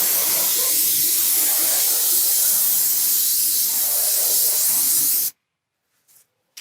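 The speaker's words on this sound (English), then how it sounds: "So I've sprayed my stain on really heavy." A paint sprayer lays heavy wood stain onto a fence with a loud, steady hiss for about five seconds, then cuts off abruptly, leaving near silence broken by a couple of faint clicks.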